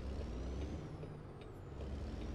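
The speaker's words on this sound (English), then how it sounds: "Just as I hit the brakes." Truck air brakes hiss in the American Truck Simulator video game, a soft, steady rush of released air over a low engine rumble, heard faintly for a couple of seconds.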